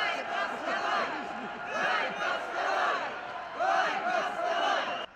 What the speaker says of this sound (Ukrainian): Кількатисячний натовп влаштовує ходу центральними вулицями міста.